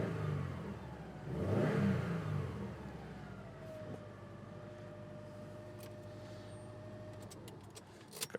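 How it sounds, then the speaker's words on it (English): A Subaru car engine gives a quick cold-start rev that swells and drops within a couple of seconds, then settles into a quiet, steady idle. "A couple little cold start revs, and didn't hear any knock or any engine noise revving it up."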